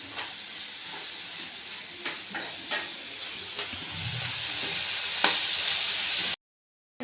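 Tomatoes and green chilies cooking down in a pan on a home stove, a soft continuous hiss and sizzle with faint crackles, then an abrupt cut to silence near the end.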